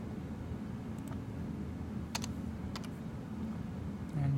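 Soft keystrokes on a computer keyboard come in a few small isolated clicks and short bursts, quiet against a low steady room hum.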